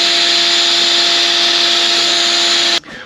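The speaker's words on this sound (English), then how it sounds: "Let's go ahead and vacuum that out." A shop vacuum sucks leftover metal shavings out of a GMC 302 inline-six engine block, a loud steady whine with a constant tone that cuts off abruptly near the end.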